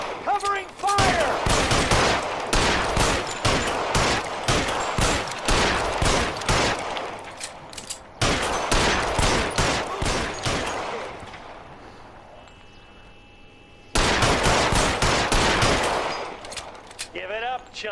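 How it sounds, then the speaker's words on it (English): Rapid bursts of covering gunfire in the 1940s Los Angeles crime game L.A. Noire, loud, dense volleys of shots in three clusters separated by a brief lull, with faint shouting mixed in. "Covering fire!"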